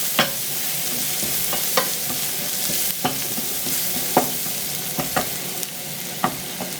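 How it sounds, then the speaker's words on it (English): Butter sizzling in a hot pan for cumin spaghetti, with a continuous frying hiss and repeated crisp stirring clicks and scrapes at an uneven rhythm, close and alone. "Going to add some butter and stir."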